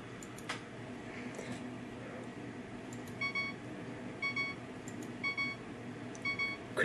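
A series of short Windows system notification chimes and beeps, such as critical stop, default beep and device connect and disconnect, plays one after another at a quiet level, spaced apart over a faint background hiss.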